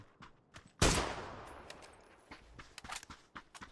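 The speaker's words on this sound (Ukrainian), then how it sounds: "То щось цей панцерфаус то високо, то низько летить." A loud blast from a Panzerfaust rocket launcher in the video game PUBG, followed by scattered gunfire pops and sharp cracks that continue after the main explosion, with no talk over them.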